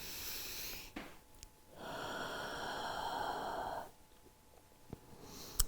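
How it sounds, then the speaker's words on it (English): During a yoga class in child's pose, one slow, deep breath is drawn in and let out close by, a soft, airy sound. Quiet gaps surround it, with faint rustles at the edges. "Take a deep breath here."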